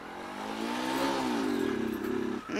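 Motorcycle engine accelerating in second gear with the clutch let out slowly, a loud, close, rising rev with steady harmonic whine that holds then dips briefly near the end.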